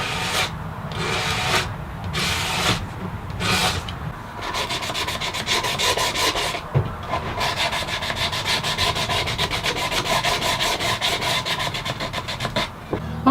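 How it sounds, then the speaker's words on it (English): Sandpaper is rubbed by hand along the cut edges of a wooden box made on a table saw. Short separate strokes come first, then a long run of quick back-and-forth rasping strokes, close and steady. "I'll just clean up the edges around the cut with some sandpaper."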